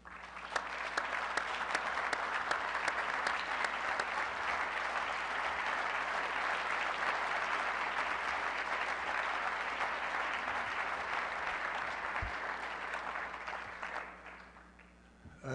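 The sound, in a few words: audience applause welcoming a Marine veteran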